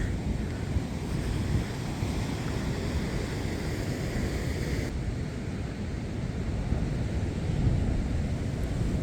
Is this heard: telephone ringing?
no